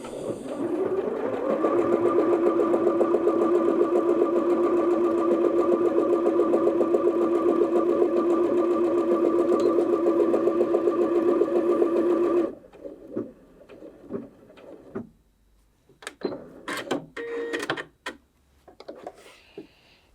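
A Bernette B38 sewing machine runs steadily in reverse stitch mode for about twelve seconds, a close, even mechanical whir with a rapid rhythmic needle beat. It then stops, followed by a few scattered clicks and handling sounds.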